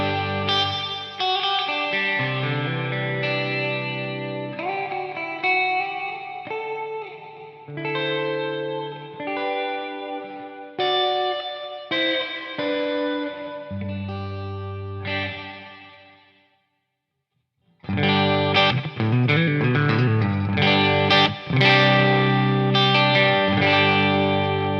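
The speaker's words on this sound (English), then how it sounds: "This is with the reverb all the way up on 10." Electric guitar played through a Quilter Toneblock 202 amp with its hall-like reverb turned all the way up, chords and notes ringing out with a long wash, a brief silent gap, then loud strummed chords resume.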